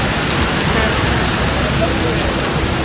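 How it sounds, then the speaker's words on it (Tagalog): Heavy rain from Typhoon Paeng pours onto a city street in Zhongli, Taiwan, a loud, dense, unbroken roar of water close by. "napakalakas ng ulan dito sa Chong"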